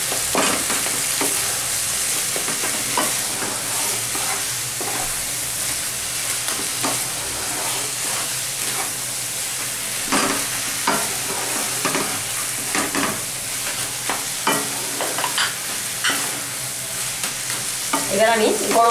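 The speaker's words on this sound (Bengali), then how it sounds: "একটু ঘেঁটে ঘেঁটে দেবো।" Ash gourd curry being stirred and scraped in a hot pan, with steady sizzling frying under repeated spoon scrapes, close and continuous with no talk.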